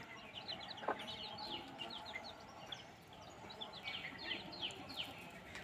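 Rooster and hens in an outdoor yard in rural Konkan, their clucks and calls scattered through a steady background, with a sharper call near the start.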